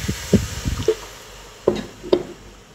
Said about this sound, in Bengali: এ পর্যায়ে একটু পানি দিয়ে দিচ্ছি।